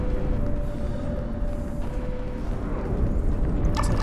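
A photon grenade blast in a Star Trek video game, heard as a dense, sustained rumbling roar of explosion with a faint tonal hum running through it, loud and continuous with no voices.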